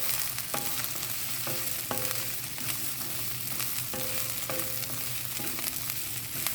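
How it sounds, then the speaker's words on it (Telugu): Sesame seeds frying together with onion in a pan for a stuffed brinjal curry, giving a steady close sizzle and crackle. Occasional scrapes and clinks of a stirring spoon against the pan come through, with no voices. "2 స్పూన్లకి నువ్వులు ఈ ఉల్లిపాయతో పాటు వేయించుకుంటే బాగుంటుంది"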